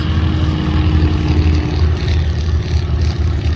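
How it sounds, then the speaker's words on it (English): A World War II-era propeller training airplane engine drones loudly and steadily, with a rough rattling clatter in its low rumble, close by and continuous. "You can hear that engine clatter."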